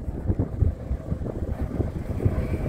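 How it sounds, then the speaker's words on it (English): Strong gusts buffet the microphone outside the Pinball Hall of Fame in Las Vegas on a hot, windy day, a continuous low roaring rumble lasting a few seconds with no voices. "Yeah, really windy here today."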